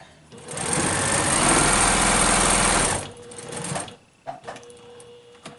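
A sewing machine runs steadily for about three seconds, stitching down the side and bottom of a fabric face mask to form a nose-bridge pocket, loud and close, then stops; a few small handling clicks and rustles follow.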